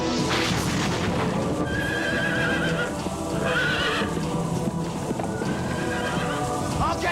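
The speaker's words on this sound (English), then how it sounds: "always there are tales of the mighty wild stallion, the great Palomino Brumby, king of all the Cascade Brumbies" A wild Palomino Brumby stallion gives loud, shrill whinnies over the thud of galloping hooves, with a dramatic rumbling backdrop and a film narrator's voice running beneath.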